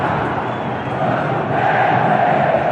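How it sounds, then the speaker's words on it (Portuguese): Clube do Remo supporters sing and chant together in the Mangueirão stadium during a Série C match against Fortaleza, a steady, dense roar of crowd voices holding throughout without a break. "é a torcida do Remo. Não para de cantar depois do gol do Eduardo Ramos"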